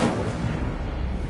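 An Incendio fire spell cast in Hogwarts Legacy bursts out in a short, loud whooshing blast that trails off over a second.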